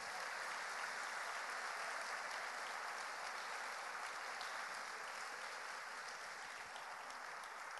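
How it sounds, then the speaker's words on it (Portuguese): A congregation applauding God during a Portuguese-language church sermon: a broad, even wash of many hands clapping, fairly faint and distant, sustained without a break. "Vamos aplaudir esse Deus maravilhoso?"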